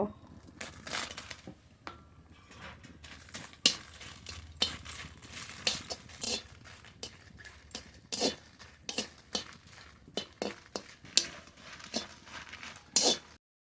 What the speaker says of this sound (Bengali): এবার শুকনো লঙ্কা ভেজে নেব